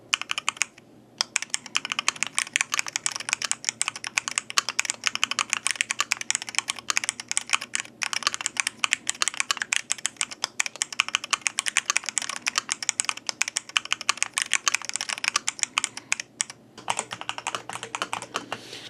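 Rapid, continuous typing clatters on a MADE68 Pro mechanical keyboard with an aluminum case, with crisp close-up key clicks in a busy rhythm and only a couple of brief pauses.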